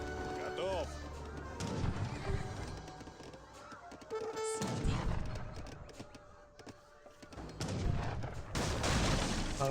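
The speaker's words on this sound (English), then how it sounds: "Cannons there." Cannon fire in an Age of Empires 3 battle, booming shots scattered through a dense mix of cavalry hooves, whinnies and gunfire, with continuous game clutter throughout.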